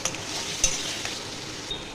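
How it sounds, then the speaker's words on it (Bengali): A spice paste of ginger, garlic, onion, chilli and cumin with turmeric and salt fries in a pan, a gentle steady sizzle punctuated by a few light spatula clicks against the metal. "এবার ভালো করে মশলাটা কষিয়ে নেব।"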